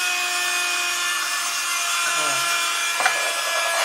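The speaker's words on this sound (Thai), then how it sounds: "พลังดูดก็ค่อนข้างแรงนะครับเสียงก็จะดังนิดนึงนะครับ" A small desk vacuum cleaner runs close by as it sucks dust off a computer desk, a steady whirring motor hum with brief scraping and rubbing as the nozzle moves across the surface.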